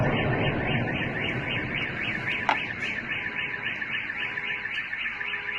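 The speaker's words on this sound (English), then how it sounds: "That's like a very popular like aftermarket car alarm." A sharp aftermarket car alarm sounds continuously for several seconds, looping a rapid warbling pattern at steady loudness, heard outdoors at mid distance with no voices.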